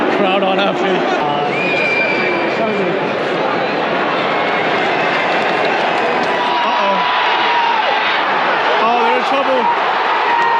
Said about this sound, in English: Crowd unhappy.